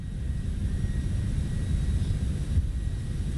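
Airliner jet engines at takeoff thrust on a TFDi MD-11 in Microsoft Flight Simulator, a steady deep low roar with broadband rumble that holds constant throughout, with no talk.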